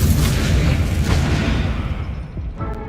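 An Incendio fire spell going off in Hogwarts Legacy, a heavy booming burst with crackling, fiery texture that gradually dies down, followed by a faint small pop near the end.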